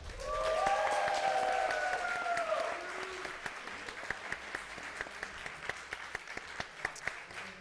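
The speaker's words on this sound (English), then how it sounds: "I would like everyone to give a big applause to the man legend, Azrael." A crowd at a Smash tournament grand final ceremony applauds. Over the first seconds whoops and cheers rise above the clapping, and then scattered claps fade out.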